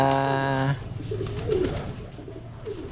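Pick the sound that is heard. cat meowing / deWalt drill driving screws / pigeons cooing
pigeons cooing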